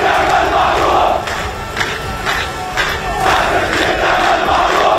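Large angry protest crowd in the streets of Ramallah shouting and chanting slogans, a dense, loud, continuous roar of many voices that swells and dips.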